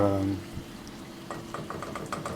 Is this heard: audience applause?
no